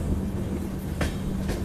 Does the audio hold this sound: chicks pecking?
no